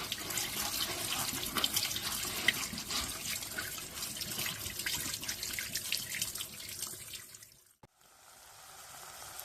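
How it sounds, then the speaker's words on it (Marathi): Poha, flattened rice, rinsed under a running kitchen tap: a steady, close rush of water splashing into a bowl for about eight seconds, then cutting off to a quieter trickle. "आता पोहे धुवून घ्यायचे."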